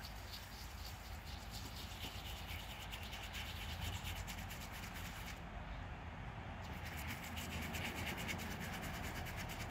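An old King George V coin, dated 1917, being rubbed clean by hand, a steady close scratchy rubbing that runs throughout without pause.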